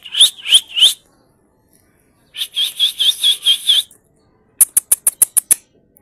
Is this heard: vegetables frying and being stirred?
no